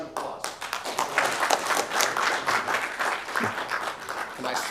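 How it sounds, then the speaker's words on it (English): Audience applause fills a city council meeting, a brisk, steady patter of many hands lasting several seconds at moderate loudness. "One more round of applause."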